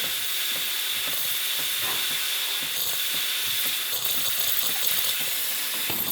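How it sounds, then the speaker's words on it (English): A continuous bright hiss of steam jetting steadily from the steam wand of a Breville Infuser espresso machine, loud and close, with faint clicks and rattles beneath it. "So turn the steam back on."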